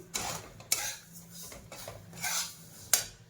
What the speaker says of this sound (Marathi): खसखस, याला सुद्धा हलकसच भाजायचंय.